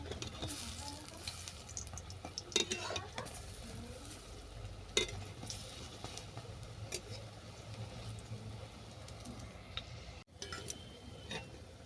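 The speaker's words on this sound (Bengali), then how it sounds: "এরপর বড়াগুলোকে আমি ভেজে নিচ্ছি।" Boras, or fritters, fry in hot oil in a kadai, a faint steady sizzle with occasional ticks and clinks of a spatula stirring, no voices.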